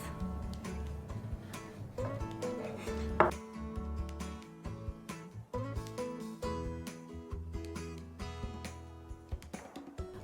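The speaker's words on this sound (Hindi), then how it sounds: "And now with the help of a sharp knife, let's cut this out into pieces." A sharp knife cuts a rolled chicken sandwich into pieces on a board, making a series of soft, irregular chopping thuds and clicks, close and fairly quiet, with no talk.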